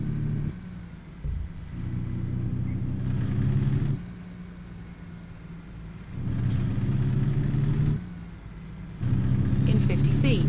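Truck engine in the game American Truck Simulator droning steadily at mid pitch, swelling and easing in several stretches as it pulls, with a voice talking over it at times.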